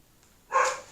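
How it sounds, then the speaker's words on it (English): A female dog barks once or twice nearby, a single loud burst after half a second of quiet indoor room tone. "I'm just going to let her keep on barking."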